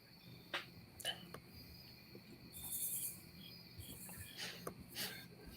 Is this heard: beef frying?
no